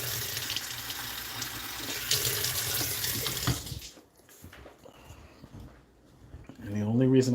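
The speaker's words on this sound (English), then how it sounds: "the only reason I'm drinking the water out the faucet right now" Water runs steadily from a household faucet for several seconds, then cuts off into quieter room noise before another loud burst of running water starts near the end.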